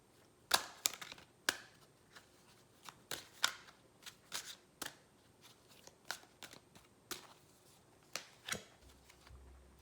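Tarot cards being shuffled by hand at close range, a steady run of crisp riffling bursts and slaps with short pauses between them, with no talking.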